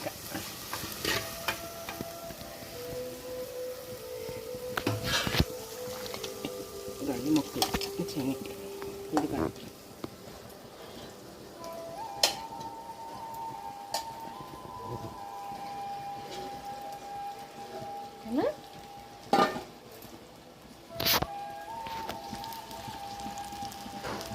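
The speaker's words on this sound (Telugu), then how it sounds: "చిన్నగా ఇలా చిన్నగా తిప్పుకోండి మట్టి పాత్ర కదా జాగ్రత్తగా తిప్పుకోండి ఇలా" Chicken curry stirred gently in a clay pot, soft scraping and sizzling with light clinks, steady and close throughout.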